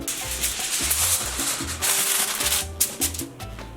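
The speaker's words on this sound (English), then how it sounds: "we're gonna line this with aluminum foil" Aluminum foil being pulled and pressed to line a baking pan for ham and cheese sliders, continuous crinkling and rustling with a few sharper crackles, close and moderately loud.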